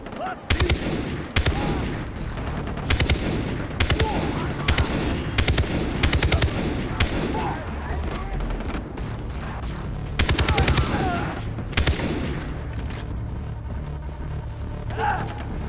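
Gunfire in the video game Far Cry 3, a sniper and automatic weapons, heard as repeated loud rapid bursts and single shots through a firefight, with a constant rumbling game ambience underneath.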